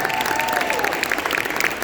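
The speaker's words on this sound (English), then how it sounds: "How about a big round of applause for these guys?" A pep rally crowd in a gym gives the boys cross country team a loud, dense burst of clapping and cheering, steady throughout the short stretch.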